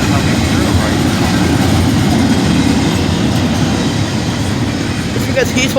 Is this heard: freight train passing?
yes